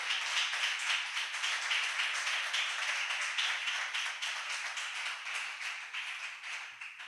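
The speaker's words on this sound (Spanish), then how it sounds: "Dale un fuerte aplauso al Señor en esta tarde" A church congregation claps together in a fairly steady rhythm, a moderately distant, continuous round of applause that softens slightly toward the end.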